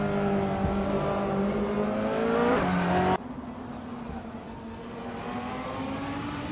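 A 2016 Audi R8 LMS race car in a racing video game, its engine droning steadily with a rising harmonic whine, then abruptly dropping to a lower, quieter hum partway through.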